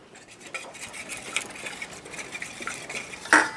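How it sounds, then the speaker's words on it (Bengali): Batter for lote fish kobiraji is stirred in a bowl with a utensil, giving close, irregular scraping and light metallic clinks, ending in one sharper clank. "আমি ব্যাটারটা আরেকটু ভালো করে ঘেটে নেব"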